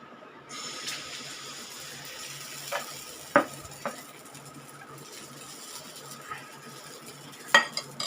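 Split-lentil uttapam batter sizzling in a hot pan, a quiet, steady frying hiss broken by a few sharp metallic clinks of a utensil against the pan.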